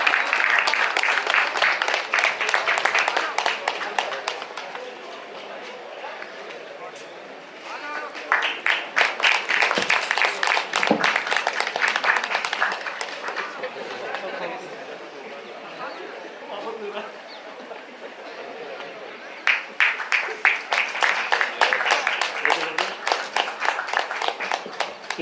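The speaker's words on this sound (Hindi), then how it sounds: "May I request everyone to give a great round of applause for everyone." A school audience claps at a Republic Day celebration, with sustained applause that swells and fades in waves over a long stretch and surges again near the end, under and between announcer talk.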